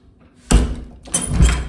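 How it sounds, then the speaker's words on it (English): A door bolt on a holiday house back door is pushed down, giving a sharp metallic clack followed a moment later by a second heavier knock and rattle, close and fairly loud, with no talk. "Now of course if I close the bolt, push it down,"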